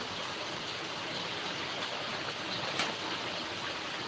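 Heavy rain pours down as a dense, even hiss, loud and continuous throughout with no gaps and no voices.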